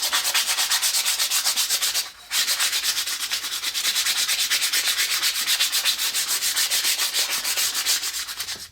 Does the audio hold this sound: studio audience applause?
no